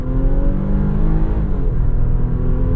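A 2022 Nissan Pathfinder Platinum's engine pulling away from a start, a close, steady rising rumble as it accelerates, continuous throughout with no talking.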